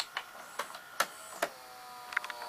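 Quiet mechanical clicks and soft clunks at irregular intervals, with a faint whirring hum underneath, like a small mechanism catching and stalling.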